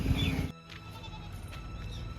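A goat in a village gives one short, close bleat at the start, then a quieter background follows.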